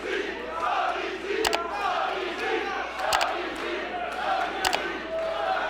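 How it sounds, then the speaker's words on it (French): A packed wrestling crowd cheers a newcomer during a triple threat match, a steady roar of many voices that swells and dips, with a few sharp bursts cutting through. "Comme vous êtes capable d'entendre, la foule est solidement derrière le nouveau venu Sonny the Art Chinese Bro."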